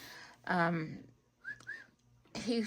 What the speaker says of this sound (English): He whistles the wolf whistle, and he chatters at you if you talk to him emotionally.